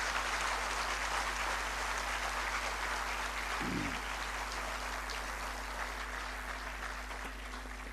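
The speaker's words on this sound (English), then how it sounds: "Give him a big round of applause." Audience applause at an Indian classical instrumental music concert, dense continuous clapping from a hall crowd, steady and full throughout over a low electrical hum.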